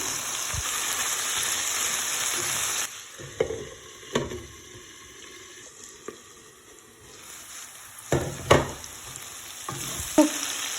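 Potatoes sizzle in a hot pan with salt while a spoon stirs, giving a bright frying hiss broken by a few scraping knocks and squishy stirs.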